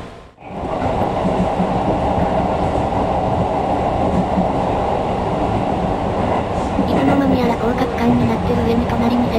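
A train rumbles past close by on a single-track line in northern Kanto, Japan, a loud continuous rolling roar with faint rhythmic clatter and a brief high squeal near the end.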